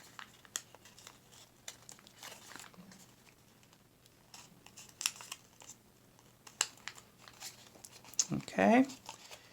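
Paper crinkles softly as an origami Mufasa figure is folded, with the four tips mountain-folded; scattered faint rustles build to a brief, closer burst of crinkling near the end, while a voice seems to murmur in the background.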